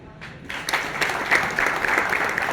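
An audience claps at a talk given by a zonal officer, a dense patter of hands that rises within the first half second and carries on steadily, fairly loud and close, with no voice over it.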